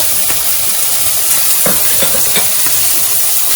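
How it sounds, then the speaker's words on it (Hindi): Carrots frying in a pan for a sizzler dish, a loud continuous sizzle and hiss with a few scraping stirs of a utensil through the vegetables. "गाजर और ये थोड़ी सी फ्राई करूंगी"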